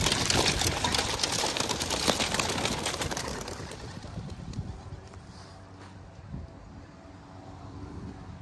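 Racing pigeons released for a 50 km training toss, a dense burst of wing flapping and fluttering that fades as the flock flies off, with faint cooing and outdoor background noise.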